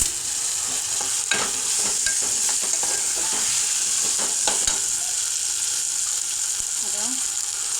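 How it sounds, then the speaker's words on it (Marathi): Potatoes sizzle steadily in hot oil in a pan while being cooked for a mixed dal amti, with scattered scraping stirs over the constant frying hiss. "आणि आता ह्याच्यामध्ये आपण बटाटा टाकून घेऊया."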